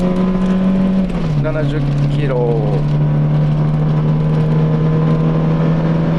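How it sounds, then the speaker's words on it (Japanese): A Japanese JP STAR Discovery camper van with a gasoline engine accelerates hard, its drone holding steady and loud throughout as the revs climb, while a voice speaks over it briefly. "じゃあフル加速いきます。"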